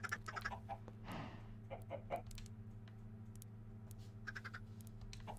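Chickens clucking in the Minecraft video game, several short game-sound clucks in bursts near the start and again toward the end over a steady low background hum.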